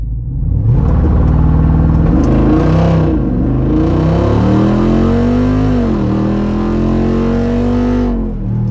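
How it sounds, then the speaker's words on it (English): A custom-tuned, race-ready Jeep Wrangler 392 launches and accelerates hard in all-wheel drive, its loud close V8 roar climbing through several gear changes, each with a brief dip before rising again, with no talking. "this thing isn't the easiest to launch with one hand, especially in all-wheel drive"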